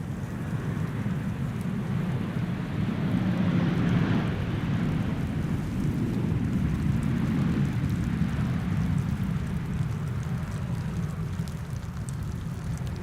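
A 15-year-old Ryanair Boeing 737-800 arrives from Dublin at Amsterdam Schiphol in winter rain and hail, a low, swelling jet rumble under a steady hiss of heavy rain that peaks midway and then holds.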